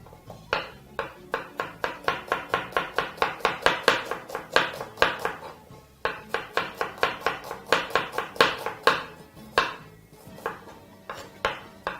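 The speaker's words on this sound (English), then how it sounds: "And continue to chop" Onion being chopped with a knife on a cutting board: a steady run of crisp, evenly spaced knocks, close and clear, pausing briefly midway before the rhythmic chopping resumes with no talk.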